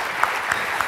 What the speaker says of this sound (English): can we give her a round of applause for a great presentation